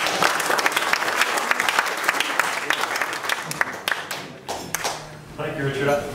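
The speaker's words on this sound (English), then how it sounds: "I like this crowd because you're clapping" Audience applause at a B-17 Flying Fortress memorial ceremony, a dense burst of many hands clapping steadily from a sizable crowd, thinning out toward the end.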